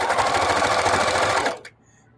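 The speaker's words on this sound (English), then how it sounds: "sewing through all these thicknesses with this walking foot" A sewing machine fitted with a walking foot quilts through thick layers of scrap fabric, running in a steady, close whir for about a second and a half before stopping abruptly.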